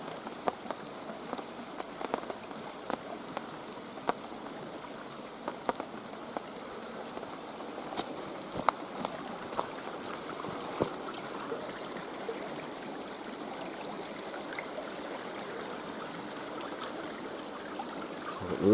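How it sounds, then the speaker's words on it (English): A stream runs nearby in pouring rain at a wild campsite, a steady close hiss of water and rain with scattered drops pattering on a surface, continuous and fairly quiet with no voices. "Now as you hear, the Triple Creek is running well"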